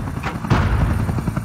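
A Black Hawk helicopter, the Super 64, being hit in combat: a dense, continuous roar of rotor and engine noise with sharp impacts and bursts like gunfire, loud and busy throughout, with a heavier hit about a third of the way in.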